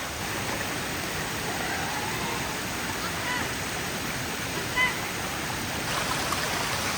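Water rushes steadily at Jodupala waterfall near Madikeri in Coorg, Karnataka, during a low-water season. The broad, even roar continues without a break, with no voices over it.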